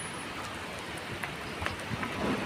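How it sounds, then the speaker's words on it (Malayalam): Heavy rain pours down steadily on a street, a dense, even hiss that fills the whole stretch without breaks. "അയ്യോ, നല്ല മഴ."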